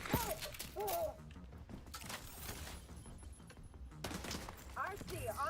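Rapid gunfire in the video game The Division, with repeated shots and clattering bursts throughout, mixed with game sounds and voices talking over it.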